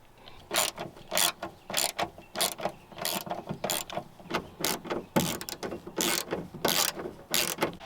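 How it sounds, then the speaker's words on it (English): Machine screws are unscrewed from the outside mirror access cover on a Toyota FJ Cruiser, making rapid repeated ratcheting clicks in steady bursts, close and fairly loud, with no talking. "once you have the 4 machine screws out, you can take off the cover"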